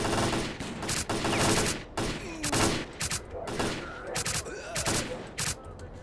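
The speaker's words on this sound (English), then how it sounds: "things to shoot, things to shoot!" Video game gunfire in STALKER: Call of Pripyat, a rapid series of sharp, loud shots in clustered bursts with short gaps, mixed with faint effects and a little background noise.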